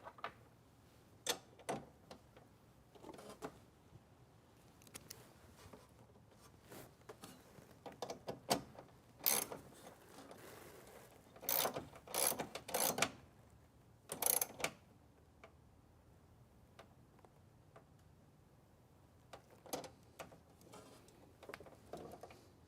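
A bolt is cranked down with a ratchet while working under the driver seat of a Ford Transit, giving bursts of quick mechanical clicking that come in short clusters with quiet gaps, fairly close.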